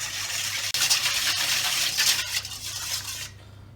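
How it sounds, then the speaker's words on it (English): Whisk beating yeast, sugar and warm water in a bowl for Turkish pide dough, a steady brisk scraping and swishing that runs continuously for several seconds before stopping. "And just give that a quick whisk so we can get it combined."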